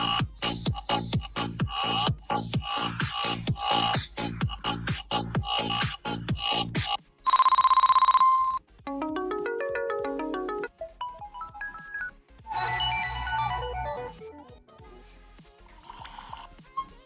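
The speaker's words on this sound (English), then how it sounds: "I'm showing you by playing the ringtones" A sequence of 3D-style ringtones played back from a phone app: a rapid pulsing burst, a steady electronic beep, a rising melodic chime, then warbling and chirping tones, each clear and fairly loud.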